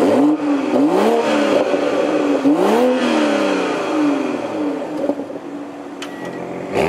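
A 2021 Toyota GR Supra 3.0 Premium fires up nearby. Its engine flares in a few quick rising revs, then settles into a steady idle with a whirring undertone.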